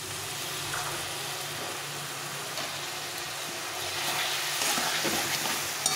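Meat being fried with spices, turmeric and spice-rinsing water, for a Bengali-style mutton curry, gives a steady, fairly loud broadband sizzle that swells slightly toward the end, with scattered crackles and no talking.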